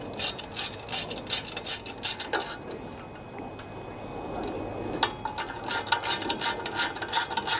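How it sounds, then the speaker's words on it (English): A ratchet fitted with a 5/16 socket tightens bolts on a Briggs and Stratton 19.5 twin-cylinder engine. Rapid clicking bursts come up close, with a short pause in the middle before the clicking resumes. "Tighten those babies down. And I use a 5/16 socket on these."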